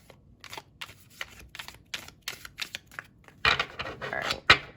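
Playing cards being shuffled for a pick-a-card reading, a series of quick papery riffles and soft slaps close to the microphone in irregular bursts, growing louder and denser toward the end, with no speech.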